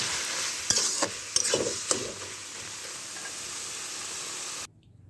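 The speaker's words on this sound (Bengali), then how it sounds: "নেড়ে শাকটা আমি নেমে নিলাম।" Red amaranth greens sizzling and frying in a pan while being stirred, a steady hiss with a few sharp scraping stirs, close and clear, then cutting off.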